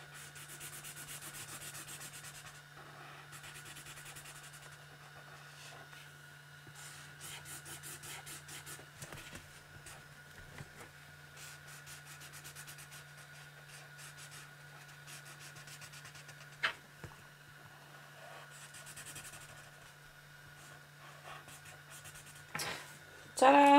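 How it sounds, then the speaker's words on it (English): Pencil or marker drawing a wedge shape on paper during a fourth-grade art lesson, steady scratchy strokes running continuously and close, with a faint background hum and a few louder bumps near the end. "I'm going to draw my wedge coming down."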